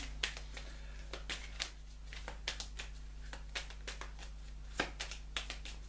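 Tarot cards are shuffled by hand, a faint run of soft crisp riffles and taps at irregular intervals over a steady low hum.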